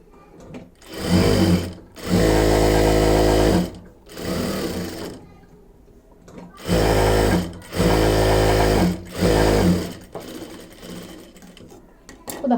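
An electric sewing machine stitches the side of a bag in loud, close bursts of rapid mechanical whirring, separated by short pauses.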